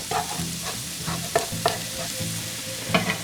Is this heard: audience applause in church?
no